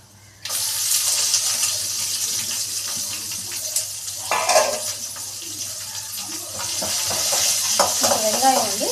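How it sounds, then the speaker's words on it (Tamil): Onions fry steadily in a hot pan with curry leaves, with occasional stirring scrapes and a brief splash of running water partway through; no one speaks. "வெங்காயம் வந்து கண்ணாடி பதம் வர மாதிரி கொஞ்சம் வறுத்துக்கோங்க."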